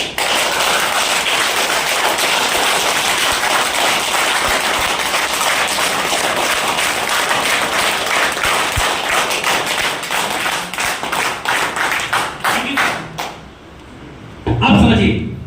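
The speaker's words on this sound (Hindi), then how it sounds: "जोर जोर से ताली बजाइए।" An audience at a seminar claps loudly and continuously for about twelve seconds, dense and close, before the applause thins out and fades, followed by a short burst of voice at the end.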